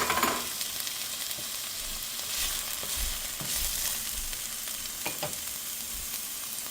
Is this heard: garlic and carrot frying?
yes